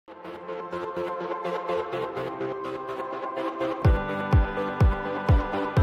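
Edited music track with a smoothed join and a fade effect, dense layered instrumental sound that shifts into a steady thumping kick-drum beat near the end, loud and without voices.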